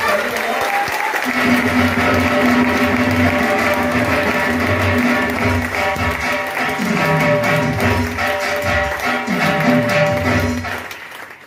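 Loud, continuous audience clapping at a business seminar, dense and steady for most of the stretch with a tonal music bed underneath, fading at the close.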